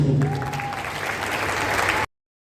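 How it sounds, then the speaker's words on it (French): Audience applause for the children at an awards gala, a brief burst of dense clapping from a crowd that cuts off abruptly after about two seconds, with a faint voice underneath at the start. "Un grand applaudissement pour nos enfants, s'il vous plaît."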